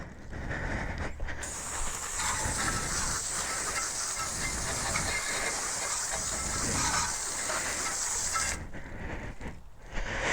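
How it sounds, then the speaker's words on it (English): Water sprays in a steady hiss over a mag rim while a motorcycle wheel is rinsed off during a bike wash, continuous and close, starting and ending with short gaps. "When I'm done with one wheel, I rinse it off."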